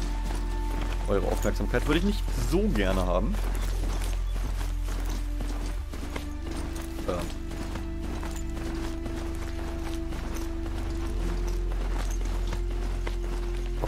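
A metal machine horse gallops in Horizon Zero Dawn, its steady hoofbeats clopping rhythmically and fairly softly beneath someone speaking German.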